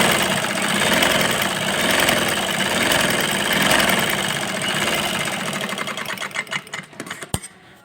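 A sewing machine stitching women's trousers, a loud rapid steady whirring rattle that slows and stutters into separate clicks before stopping with a sharp knock.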